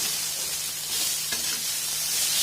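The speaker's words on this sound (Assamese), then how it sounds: "ধুনীয়াকৈ এনেকৈ ঢেকীয়াখিনি ভাজি ল'লোঁ।" Fiddlehead ferns fry in a pan with a steady bright sizzle, close and continuous, with a faint stir or scrape partway through and no talking.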